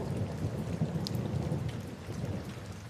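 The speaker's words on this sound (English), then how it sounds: "The rain becomes a low, silver whisper behind the walls." Rain falls steadily outside walls, a soft, muffled, continuous patter with a low rumbling undertone, faint and even for a few seconds with no voices.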